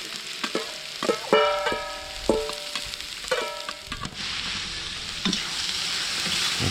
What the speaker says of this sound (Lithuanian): Įkaitus aliejų dedame svogūnus.